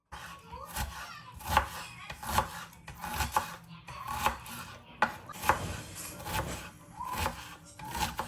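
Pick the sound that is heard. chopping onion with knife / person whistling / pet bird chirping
chopping onion with knife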